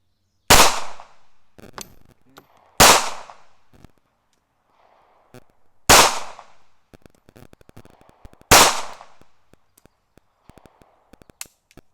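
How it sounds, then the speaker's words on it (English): Four sharp pistol shots from a Ruger LCP Max fired downrange at an outdoor range, spaced a couple of seconds apart, each loud with a short echoing tail, with faint clicks and handling noises between them. "I'll go ahead and shoot this one downrange"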